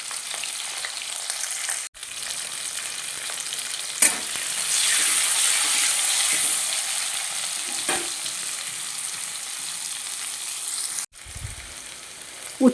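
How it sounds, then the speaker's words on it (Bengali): Bitter gourd frying in hot oil in a wok with a little turmeric and salt. A loud, steady sizzle runs throughout, with a few sharp knocks and clatters and a short gap near the end. "এবার আমি উচ্ছেগুলো ভেজে নেব।"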